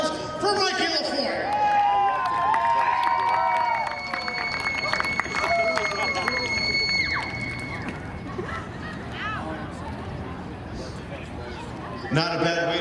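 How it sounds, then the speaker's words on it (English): Crowd applause and cheering at Seekonk Speedway's Victory Lane for a race winner, a broad wash of clapping and scattered shouts with tonal sounds and talk over it early, thinning out toward the end. "how about a round of applause for Mikey LaFleur?"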